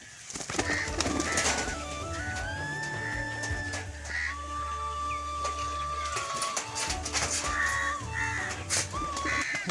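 Pigeons coo and birds call close by, with overlapping warbling notes over a low steady hum, in the Sundarbans.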